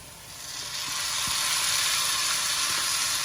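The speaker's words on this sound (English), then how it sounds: "we'll continue sauteing this for another 2 or 3 minutes for the mushrooms to soften" Mushrooms and garlic sauté in a hot pan, a steady close sizzle that builds slightly louder and holds, with a few soft clicks of utensils against the pan and no talking.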